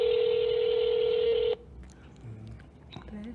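Telephone DTMF tone plays steadily and clearly through a phone line for about a second and a half during a home health agency call transfer, then cuts off abruptly into quiet line noise with faint clicks.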